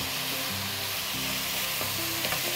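Soy sauce sizzling as it hits pork frying in a pan for sweet and sour pork, a loud steady crackle and hiss with occasional stirring scrapes, close and continuous with no talk.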